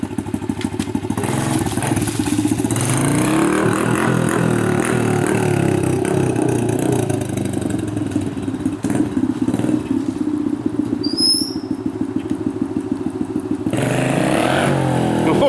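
A motorcycle engine roars loudly and revs up and down during a wheelie attempt, close and sustained, with clattering thumps and brief gaps in the engine note.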